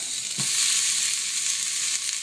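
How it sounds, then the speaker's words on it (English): Short ribs sizzle steadily in a hot pan, a loud continuous hiss with a faint clunk at the start. "the minute that they hit the pan, they're going to make a sizzle"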